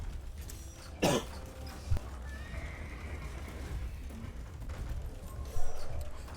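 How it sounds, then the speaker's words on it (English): A single short cough near the start, then a faint second one, over a steady background murmur of Age of Empires Death Match game sounds. "Sorry, had to cough there for a moment."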